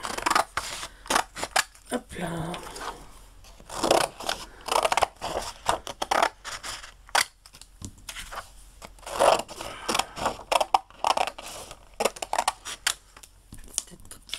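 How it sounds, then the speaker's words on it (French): Scissors snip through paper into strips for scrapbook labels, a string of close, crisp cuts and paper rustles in an irregular rhythm, with a voice speaking briefly. "on va donc attaquer la phase de découpe. Les ciseaux, je vais les découper en bandes"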